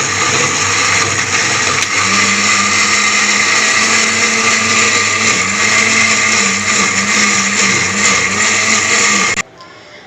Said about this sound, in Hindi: अब इसको हम ग्राइंड करते हैं।